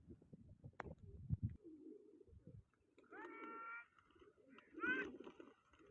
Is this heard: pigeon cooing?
yes